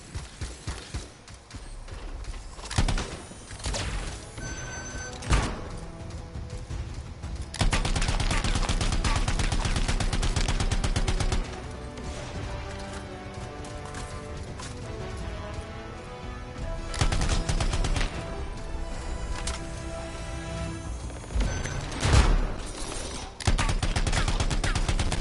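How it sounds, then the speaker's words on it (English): Sustained turret gunfire and explosions in the video game Anthem, loud and dense bursts layered over a constant game soundtrack for the whole stretch, with no talking. "They've set up turrets. We need to take them down."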